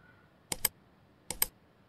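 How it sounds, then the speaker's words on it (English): Two quick, close double clicks of computer keys being struck together, a sharp pair of taps followed by a second pair under a second later in a quiet room. "Now hit the 3 keys at the same time."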